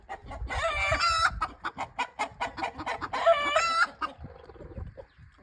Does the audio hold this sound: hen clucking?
yes